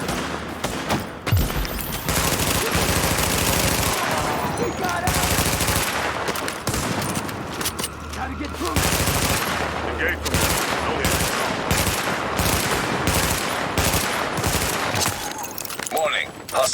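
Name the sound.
gunfire from the video game Tom Clancy's The Division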